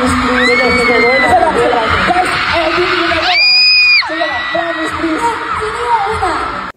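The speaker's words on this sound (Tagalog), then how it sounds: "Walang tigil ang hiyawan habang patuloy na sumasayaw ang dalawa" Fans shriek and cheer as two people dance, with loud, piercing screams rising in long wavering glides above a constant crowd roar.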